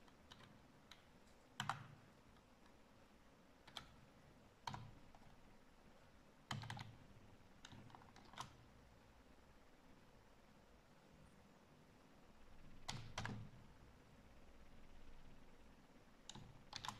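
Typing code on a Dell laptop keyboard, faint and close: scattered key clicks with a few sharper taps at irregular intervals over a quiet room background.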